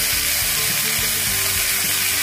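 Chicken skin sizzling loudly in its own rendered fat in a pan, a dense continuous crackle with small pops and stirring scrapes underneath.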